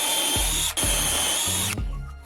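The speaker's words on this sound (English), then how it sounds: "apply masking tape to the first piece and drill in the desired spots" A power drill bores holes into timber through a strip of masking tape, the motor whining steadily in several bursts, each spinning down as the bit pulls out, close and loud with no talk.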